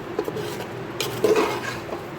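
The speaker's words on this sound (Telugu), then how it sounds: "బియ్యం వేసి బాగా కలుపుకోవాలి" Rice is stirred into spiced tomato mixture in a cooking pot for tomato rice, a spoon scraping and clinking against the metal with soft, irregular rubbing scrapes at close range.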